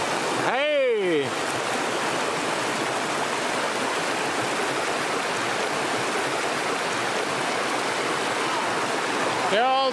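Broad, steady roar of river rapids in the Finnmark wilderness, dense and continuous throughout, with a brief voice or whistle-like sound near the start and at the end.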